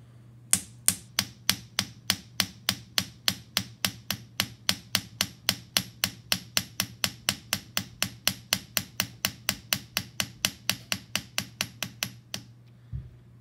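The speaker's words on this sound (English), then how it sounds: "So if I start hammering again and I pay close attention to being on this side, I should be able to curve that back." A metal hammer taps a small copper leaf at a steady, even rhythm, about forty crisp close strikes over a low constant hum, ending in a moment of quiet.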